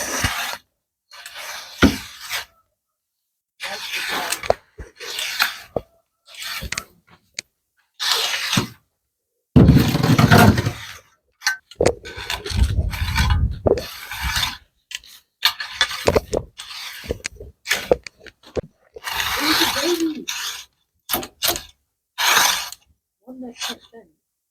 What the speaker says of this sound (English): What do you say we tilt it up and we rake it?